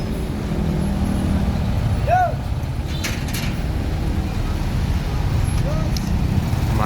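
Congested road traffic with buses and trucks, including a large Tronton truck, during evening rush hour in Java, a steady loud engine rumble close by with brief high tones like brakes or horns.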